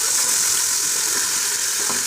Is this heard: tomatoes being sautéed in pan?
yes